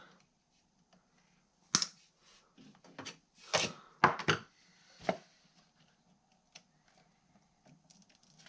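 Box fan three-speed switch wires being snipped through, a handful of sharp, close clicks spaced a second or so apart with quiet gaps between.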